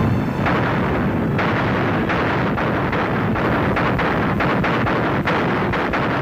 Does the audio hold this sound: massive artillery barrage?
yes